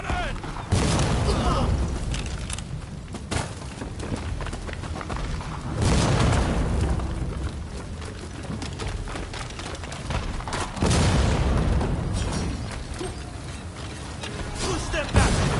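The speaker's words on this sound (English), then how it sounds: "Fire the cannon!" Cannon fire in the samurai action game Rise of the Ronin: heavy booming blasts land near 0, 6 and 11 seconds, each trailing off into rumbling debris and battle noise, with in-game shouts among the chaos.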